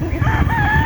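A young gamecock stag gives a short, loud, close crow lasting under a second.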